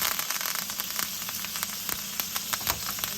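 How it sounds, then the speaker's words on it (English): Butter sizzles hard in a hot pan around a steak with rosemary and thyme, a dense, steady hiss with close crackles and pops running throughout and no voices. "And then we're going to add the butter."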